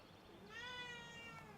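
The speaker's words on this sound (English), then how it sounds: "That's my cat." A house cat gives a single drawn-out meow, faint and tonal, rising and then gently falling in pitch against a quiet indoor background.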